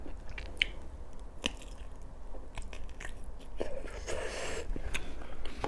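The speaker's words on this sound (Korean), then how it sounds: "이 소세지를 씹으면 안에서 육즙이 나와." Kielbasa sausage being bitten and chewed up close, a few crisp bites followed by wet, squishy chewing that swells toward the end, with no talking.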